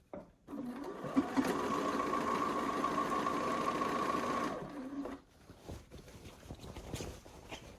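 A sewing machine stitches quilt pieces for a double wedding ring quilt in one steady run of about four seconds, a close, even hum with rapid needle clatter, followed by quiet fabric handling.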